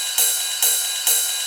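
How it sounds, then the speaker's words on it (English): A programmed ride cymbal loop from a techno sequence in FL Studio plays three bright, washy strikes at an even pace. Each hit blooms into a sustained metallic shimmer that carries into the next strike, with no voices. "You can also use sequencing to make drum loops. An example could be to create a ride loop like this."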